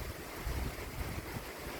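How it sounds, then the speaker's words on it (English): A gust of wind during Hurricane Lee roars steadily as a dense, broadband rush with low rumbling buffets on the microphone, loud and continuous for a couple of seconds with no voices. "Listen to the gust of wind."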